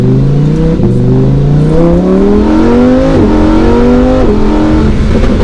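Lamborghini Huracan EVO RWD, a rear-wheel-drive supercar, accelerating hard with a loud engine note climbing steadily in pitch through several quick gear shifts, heard continuously up close with no talk.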